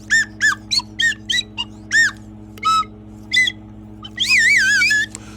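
A slide whistle blown in a quick series of short, loud, squeaky rising and falling toots, ending on one longer wavering warble, heard up close with no talking.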